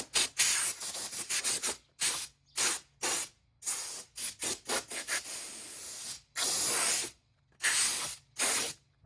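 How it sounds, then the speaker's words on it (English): A Typhoon compressed-air blowgun blows dust off the paint of a Shelby GT350R in short, loud hissing bursts of uneven length, separated by brief silences. "I just take compressed air, like I'll show you here."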